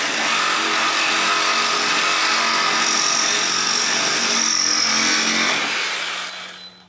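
A DeWalt XR cordless reciprocating saw cuts rapidly, its loud buzzing motor and stroking blade running steadily up close for several seconds before winding down.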